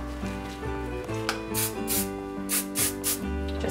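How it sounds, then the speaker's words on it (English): Short hissing bursts of Unite hairspray being sprayed onto a kimono chignon updo, several quick puffs near the end over a steady background of tonal music. "Just a little tiny whisker of the Unite hairspray, so nothing too much."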